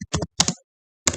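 Computer keyboard typing with an Enter press: a few crisp, close plastic key clicks in quick pairs, a pause, then one more click, alone without talk.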